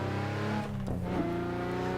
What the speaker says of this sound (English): I love the noise of this car, by the way.